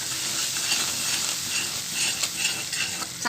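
Wheat flour roasting in melted ghee in a pan, a continuous close sizzle and hiss with scraping stirring sounds running throughout.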